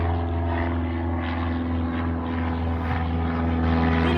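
A propeller airplane in flight, a loud steady droning engine hum that holds constant throughout with no talking.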